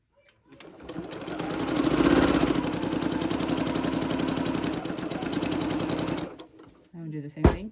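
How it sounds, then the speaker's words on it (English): A sewing machine runs steadily for about six seconds while stitching fabric binding strips together, a close, even mechanical whir with rapid needle clatter that stops abruptly, followed by brief handling noise. "I'm going to sew them."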